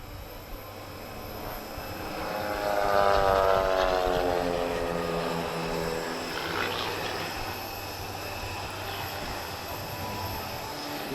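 A Pitts S2 aerobatic biplane flies an airshow display in Portugal, its engine drone rising and falling with a Doppler-like pitch sweep as it passes at a distance, over steady background rumble.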